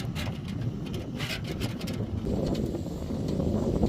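Gusty wind buffets the microphone outdoors beside a pot simmering over a cooking fire, a loud rumbling rush that swells toward the end, with no talk.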